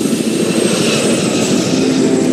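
Helicopters in the war shooter Medal of Honor Warfighter give a loud, steady engine and rotor roar that holds evenly throughout, close and alone with no speech.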